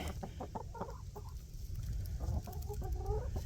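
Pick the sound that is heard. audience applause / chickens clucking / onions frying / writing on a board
chickens clucking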